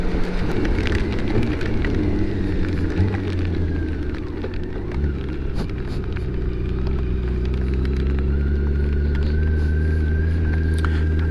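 A motorcycle rides through rain, with a steady wash of rain and road noise over a low, constant engine drone, loud and unbroken throughout and with no talking.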